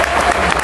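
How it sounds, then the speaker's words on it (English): Brief, loud applause from an audience cheering candidates on stage at an evening event, a dense burst of clapping from a crowd. "How about a round of applause for our candidates up here on stage?"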